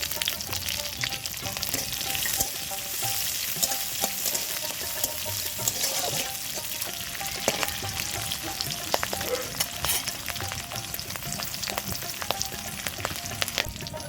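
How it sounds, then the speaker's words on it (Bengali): Slit green chillies and garlic frying in oil in a pan, giving a steady, continuous sizzle with occasional crackles and stirring scrapes throughout. "রসুনটা হালকা ভাজা করা হয়ে গেছে, এবার চেরা কাঁচা লঙ্কা দিয়ে দেবো"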